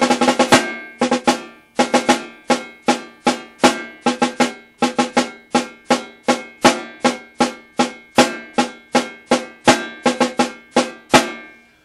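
A drummer plays the Connecticut Halftime rudiment at half speed on a snare, sharp strokes repeating in a steady pattern of grouped hits with diddles, close and alone for about twelve seconds.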